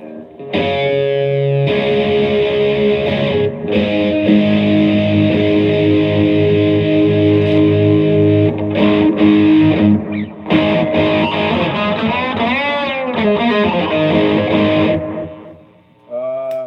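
Loud electric guitar through a Dime Distortion pedal, playing heavy sustained chords and riffs with brief pauses between phrases.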